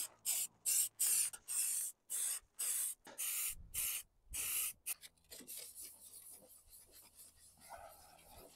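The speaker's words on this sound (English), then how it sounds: "Just put a very light covering of grey primer on there" Grey primer is sprayed from an aerosol can onto a repaired sill on an MG TF, a series of sharp hissing bursts in quick succession at close range, followed by quieter rustling.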